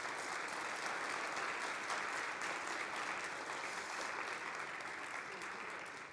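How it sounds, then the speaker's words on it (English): An audience at an event in Denver gives the staff a round of applause, a dense, steady clatter of many hands clapping that carries on throughout and fades slightly near the end. "they get an incredible round of applause for doing an amazing job."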